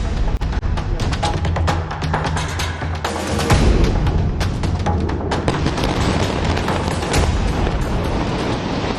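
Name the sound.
explosions from Israeli strikes on Gaza buildings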